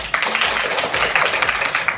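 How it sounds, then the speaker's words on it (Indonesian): A classroom of students applauds during a children's literature lesson, dense close hand clapping for about two seconds at steady volume. "Tepuk tangan dulu."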